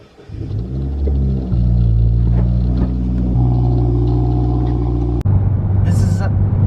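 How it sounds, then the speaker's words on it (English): A 2018 Subaru WRX fitted with a COBB intake pulls away while driving, its engine rumbling and rising in pitch with a turbo whine and a gear change, loud and close, with a voice talking over it. "the first thing that I noticed is that the turbo noise is so much louder"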